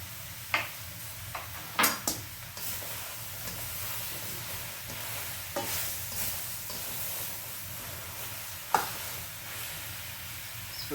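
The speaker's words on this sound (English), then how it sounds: "And we're going to saute the shrimp as well, and then we'll saute the onions too." Shrimp sauté in oil in a pan, giving a soft, steady sizzle with occasional sharper crackles and pops scattered through it, fairly quiet and without voices.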